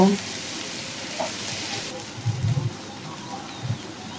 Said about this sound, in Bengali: দিয়েছি পেঁয়াজ কুচি আর দিয়েছি আলু কুচি আর হাফ চামচ লবণ দিয়ে দেখো আমি একটু হালকা করে ভেজে নিব